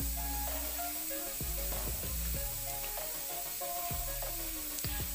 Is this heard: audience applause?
no